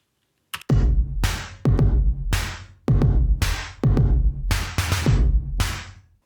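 A drum kit plays a punchy groove through two Impressor compressor plugins: booming kicks and cracking snares with cymbal wash, loud, dense and tightly compressed, sustaining between hits.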